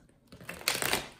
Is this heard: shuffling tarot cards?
yes